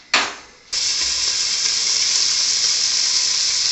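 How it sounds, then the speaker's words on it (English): Fat and onion pieces hit a hot pan with a sharp hiss, which fades briefly before a loud, steady, broadband frying sizzle takes over and continues without a break. No voices are heard. "So you're throwing the fat in too? Yeah, the fat and the onions."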